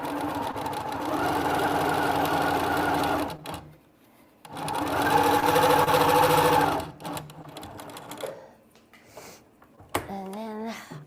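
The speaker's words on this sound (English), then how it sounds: "I'm going to just keep going and sew this side together" A sewing machine stitching the side seam of a fabric Christmas satchel runs in two steady whirring bursts, close and fairly loud, with a pause between them and a voice speaking briefly near the end.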